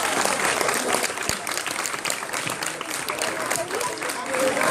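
An audience at a stage hypnosis show applauds loudly, a thick wash of clapping that holds steady throughout with a few voices mixed faintly into the crowd noise.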